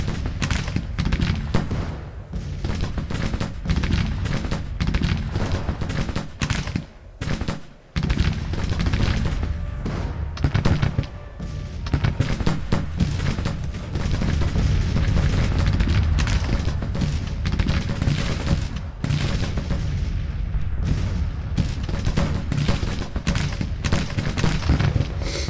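Massed musket volleys and artillery booms from a Civil War battle around Fredericksburg in a strategy video game, forming a loud, continuous rattle of gunfire with heavy thuds and a few brief lulls.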